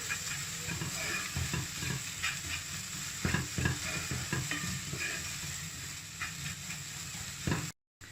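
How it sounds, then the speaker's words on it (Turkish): Lentil noodle soup with mint being stirred in a pot, a steady simmering hiss and bubbling with soft scraping stirs throughout, close and moderate, no talk. "Şöyle güzelce karıştıracağım."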